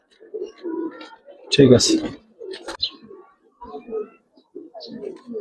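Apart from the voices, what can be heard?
Indian red bom pigeons cooing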